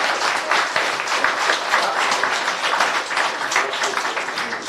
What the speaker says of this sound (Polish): Pewnie, brawa!